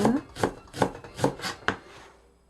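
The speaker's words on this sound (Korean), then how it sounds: "대파 흰 부분 쪽으로 조금 썰어 주겠습니다" Knife chopping the white part of a green onion on a cutting board, about six crisp, evenly spaced chops close up, with no talking.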